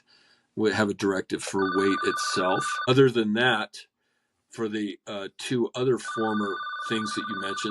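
A telephone rings repeatedly in the background while a person keeps talking over it, its bell sounding in two separate bursts.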